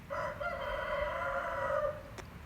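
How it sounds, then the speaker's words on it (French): A rooster crows once, long and drawn out, at dawn at a cold mountain campsite on the Salkantay trek, fairly near and clear above quiet background noise. "Et ce monsieur, le coq, ça fait 2 heures qu'il chante."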